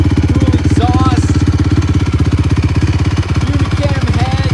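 A used 2016 Honda CRF450R open-class motocross race bike with a Unicam head, fuel injection and dual exhaust runs close up, a loud, fast, steady single-cylinder thump that continues without a break.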